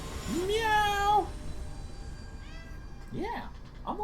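A house cat meows close by, one long drawn-out meow followed by a couple of shorter chirping meows, while a person talks softly in the background.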